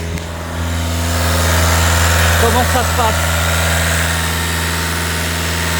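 A Volkswagen Golf 7 engine runs at a raised steady speed with the accelerator held down by a wedge during a particulate filter cleaning, a loud continuous drone throughout while a person speaks briefly over it.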